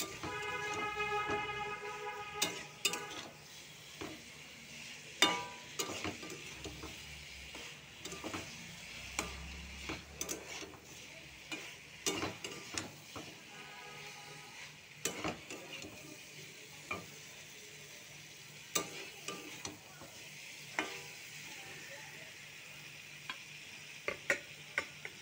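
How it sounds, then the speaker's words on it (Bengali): Spices with cumin powder and chili powder stirred and sautéed in a pan for a Bengali prawn, potato and Malabar spinach stem curry, a steady sizzle with scattered scraping stirs and clinks throughout. "দেবো জিরে গুঁড়ো, ভালো করে কষিয়ে নেব"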